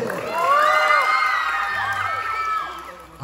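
A crowd at a community event in Vigan cheers and whoops loudly, with high shouts rising over the noise and a faint background hum.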